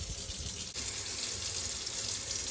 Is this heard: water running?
yes